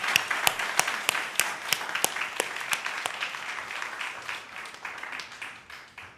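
A congregation at a Unitarian Universalist Sunday service applauds, opening with a few strong distinct claps that merge into steady hall-filling clapping, then gradually fading out.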